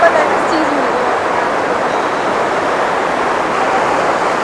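Floodwater roars loud and unbroken along the river at the Tapkeshwar Shiva temple in Dehradun, where the surge broke an iron bridge. It is a dense, close wash of rushing water with no pauses.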